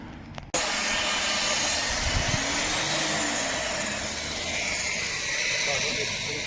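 Compressed-air mortar pointing gun used for repointing brickwork, a steady loud hiss and whoosh running continuously after a brief quiet start.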